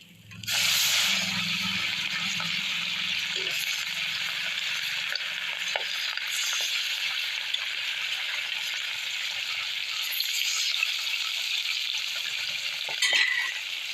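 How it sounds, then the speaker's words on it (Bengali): Fish frying in plenty of oil in a deep wok, a steady loud sizzle and crackle that holds without a break from start to finish, with a few faint clinks of a utensil and no voices. "দেখো মাছের তেলে মাছ ভাজা হয়েছে, মাছগুলো উল্টায় দেবো।"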